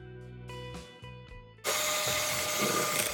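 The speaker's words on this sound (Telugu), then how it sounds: "ఇప్పుడు విప్ చేయాలి." An electric mixer whips a Marie biscuit pudding mixture with drinking chocolate; after a low, even motor hum, it kicks into a loud, steady whirring roar that holds to the end.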